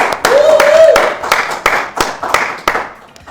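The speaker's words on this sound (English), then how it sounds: "Give her a round of applause" Scattered clapping for a guest on a live talk show, a handful of sharp, evenly spaced claps up close, mixed with a voice at the start and fading out.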